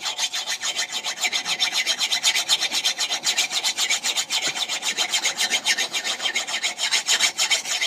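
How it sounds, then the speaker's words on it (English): A fine hand file drawn over the edge of an old axe, producing a loud, close, rhythmic rasping of steady back-and-forth strokes that carries on throughout with no speech. "Now this is the smoothest file I've got."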